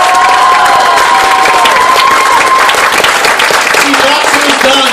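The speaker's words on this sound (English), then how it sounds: "give her a serious round of applause" Convention crowd at an anime con closing ceremony clapping and cheering loudly for a staff member, dense applause with whoops and shouted voices rising over it throughout.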